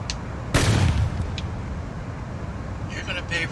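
A single loud gunshot in a wheelchair video game, one sharp blast followed by a quieter low rumble and faint clicks, with no speech.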